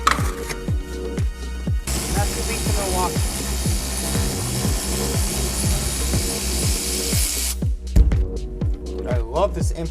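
An impact wrench rattles in repeated short bursts while parts are removed from a 1965 Ford Mustang, loud and close, with a voice speaking between and over the hammering.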